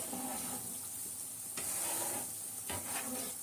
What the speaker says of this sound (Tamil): இப்போ குழம்பு கொதிக்குது பிள்ளைங்களா, நம்ம மீன் போட்டுக்கலாம்